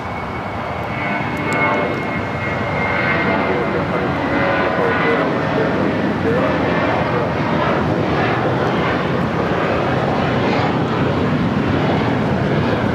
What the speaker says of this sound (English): taking off to Dallas-Fort Worth on the A321